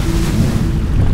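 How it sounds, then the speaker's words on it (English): Ocean waves rolling and crashing over a reef, heard as a loud, continuous low rumbling wash with wind noise on the microphone and no talking. "the waves crashing above you, rolling right over your head"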